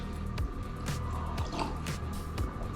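A little apple cordial poured into a dish, with soft drips and a brief liquid splash close up and quiet, no talking over it.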